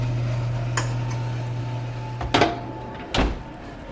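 Pans of barbecue ribs and chicken pushed back into a hot oven, two short metallic scrapes and clunks over a steady low oven hum, near and fairly loud.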